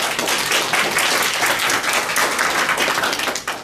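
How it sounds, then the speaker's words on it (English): A room of attendees at a positive leadership talk gives a round of applause, loud and continuous dense clapping that holds steady before tapering off at the end. "can you please do a round of applause?"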